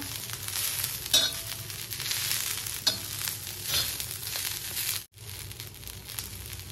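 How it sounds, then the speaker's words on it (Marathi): Green chilli thecha with coriander sautés in a pan, a continuous close frying sizzle with a few stirring scrapes and short clatters, and a brief dropout near the end. "सगळं छान परतवून घेऊया। आणि ह्यात कोथिंबीर पण ऍड करूयात। ती थोडीशी भाजून घेऊया।"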